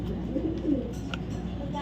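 Racing pigeons coo in a low, steady murmur, a male bird among them, with a faint background hum and a brief higher tone near the end.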